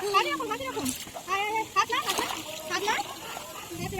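A child kicks their legs while learning to swim in a village pond, giving repeated small splashes and sloshes close by, mixed with a voice and an adult talking over the water.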